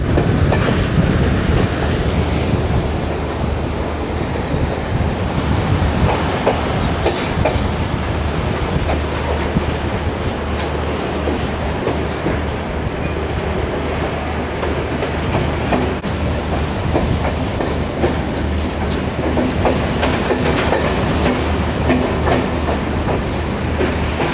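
A passenger train runs along the seafront on the approach to Colombo Fort railway station, giving a steady, loud rumble of wheels and carriages with faint rhythmic clatter throughout and no voices.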